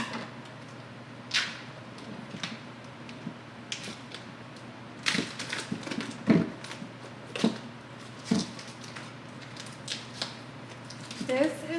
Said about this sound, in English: I'll just use my kitchen scissors